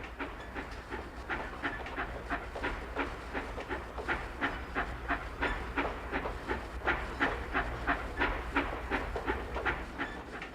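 Loaded rail trams of ties rolling along track from a tie yard into a treating cylinder with a steady, regular clickety-clack rhythm, moderately loud and continuous, with no voices.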